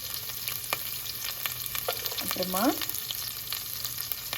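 Chopped green chillies, mustard seeds and urad dal fry in hot oil, crackling and sizzling steadily with scattered pops and a few spoon scrapes; one brief word is spoken over it.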